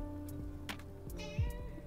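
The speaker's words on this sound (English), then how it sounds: "Can you guys hear her meowing?" A house cat meows a few times indoors, short faint calls close by amid quiet room sound.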